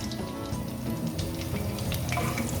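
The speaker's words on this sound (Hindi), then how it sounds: "मैंने कढ़ाई चूल्हे पे रख दी है और इसके अंदर मैंने डाला है आधा कप ऑयल और यहाँ पे मैं डालूँगी स्पाइसी" Whole spices hit half a cup of hot oil in a karahi on the stove, loosing a loud, dense, continuous sizzle and crackle with scattered pops throughout.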